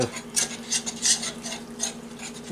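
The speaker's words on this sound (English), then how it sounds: "let's just give it a little bit of a stir right here" Oil being stirred into self-rising yellow cornbread batter in a pan, a soft repeated scraping and swishing in an uneven rhythm, close and fairly quiet, with no talking.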